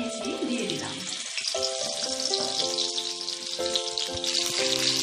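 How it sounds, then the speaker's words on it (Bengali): Potatoes cut into long pieces frying in a pan, giving a continuous bright sizzle with a few faint stirring sounds beneath, steady and close, alone without speech, with soft tonal music underneath. "আলুটাকে ভালো করে ভেজে নেব।"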